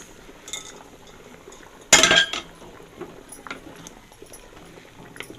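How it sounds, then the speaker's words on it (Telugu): Semolina (rava) poured into a cooking pot, a brief rushing, gritty clatter of grains hitting metal, close and moderately loud, with faint clinks of utensils before and after. "ఇప్పుడు రవ్వ వేసేసుకుందాం"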